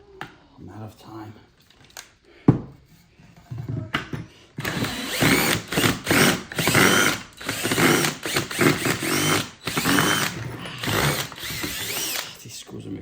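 Power drill drives screws into a shoe rack, with repeated stop-start bursts of whirring and ratcheting over several seconds, close up, mixed with handling noise.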